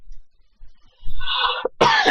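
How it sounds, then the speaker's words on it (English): A person coughs, a short rough burst followed by a second harsher cough, close and fairly loud after near silence. "Now I'm coughing, damn it"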